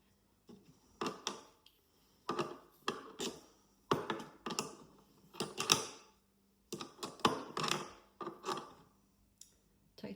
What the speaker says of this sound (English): Tightening the nuts.